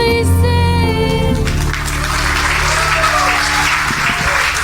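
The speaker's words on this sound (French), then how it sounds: "Ça applaudit fort." Live concert audience at a tribute show breaking into loud, dense applause as the final held note of a song ends, with the clapping continuing strong to the end.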